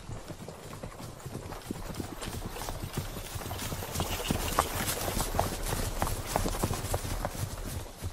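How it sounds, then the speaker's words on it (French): Horses' hooves clip-clop in a quick, continuous rhythm, the hoofbeats growing slightly louder as the animals draw nearer. "J'entends des pas de chevaux."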